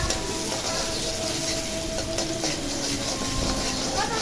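Chopped onions sizzle in a pan with fried okra (bhindi) and fish roe. A steady, continuous frying hiss holds at a constant level from start to finish.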